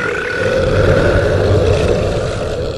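A loud, long, rumbling burp lasting nearly three seconds, deep and sustained at close range, with no speech over it.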